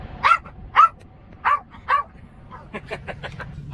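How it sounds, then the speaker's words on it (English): A dog riding in the cab of a 2021 Freightliner truck barks on command, four loud close barks at a steady pace followed by a run of softer quick yips and whines. "Got my road dog back on the truck with me. Tell him, girl. Tell him. Speak."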